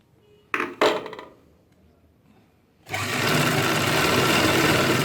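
A sewing machine stitches ladies' pants, a steady loud whirring run filling the second half after a couple of sharp knocks and handling thumps.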